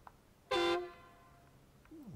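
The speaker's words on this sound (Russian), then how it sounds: "Такой стандартный гудок." One short, loud blast of a standard truck horn on a Mustang mod truck in the snowy off-road game SnowRunner, a brassy tone rich in harmonics that fades quickly into quiet engine idle.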